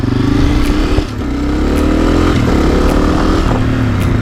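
A Honda CRF 250F dirt bike accelerating and shifting up through the gears, a loud close engine roar with a brief dip at each shift and a rising pitch after.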